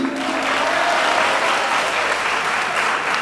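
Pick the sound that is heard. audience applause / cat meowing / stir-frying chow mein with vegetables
audience applause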